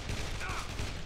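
A brief burst of rapid gunfire in the video game Dead Island, dense and continuous, with noisy, crackling shots.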